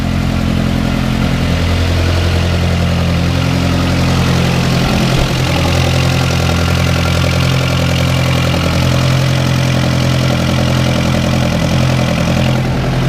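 An Audi engine fitted to an E36 street car build runs steadily at idle just after starting, a loud, close, continuous low rumble that wavers slightly in pitch with no other sounds.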